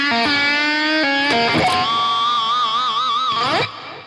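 Electric guitar with effects plays a guitar solo phrase slowly, sustained distorted notes stepping upward and then a long wavering vibrato bend, with no talking.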